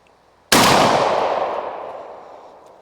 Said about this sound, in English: Let's see if I got 2 more shots in here, see if I can hit one of these other plates.